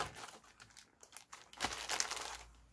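Plastic wrapping on a t-shirt crinkles and crackles as a subscription box is unpacked, a close, fairly quiet run of irregular rustles that grows busier toward the end.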